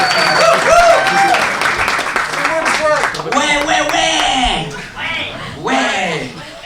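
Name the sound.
audience applause for a stand-up comedian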